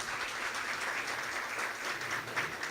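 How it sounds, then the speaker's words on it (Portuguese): An audience gives faint, steady applause for Dr. Marisa at a dinner event, many hands clapping together in a soft, continuous wash with no voices. "Uma salva de palmas, por favor."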